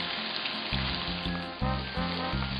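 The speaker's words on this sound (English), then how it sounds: "I am going to be cooking the bacon and the sausage first" Bacon and sausage fry on a Blackstone griddle in a steady, close sizzle, with a low rhythmic thumping running beneath the crackle.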